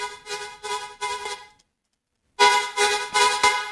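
Quanta synth heard dry, without processing: repeated even synth stabs, a pause of near silence, then a brighter, louder run of similar pulses, with no voices.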